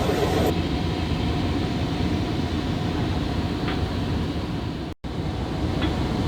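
A GO Transit train pulling out of Toronto Union Station gives off a steady low rumble and hum, with a brief dropout near the end.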